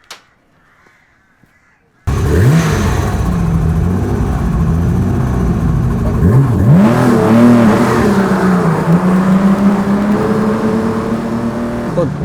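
A veteran Le Mans Jaguar D-Type race car engine starts abruptly after near silence, then runs loud and close, its pitch rising and falling with revs as it is driven.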